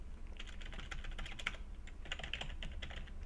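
Keys on a computer keyboard click in quick, uneven bursts of typing with a brief pause in the middle, faint and close, over a low steady hum.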